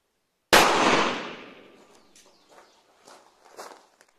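.38 Special lead round-nose 158-grain round fired at a phone target about 4 meters away on an outdoor range: a single sharp, loud report with a long decaying reverberation, followed by faint clinks and rustles.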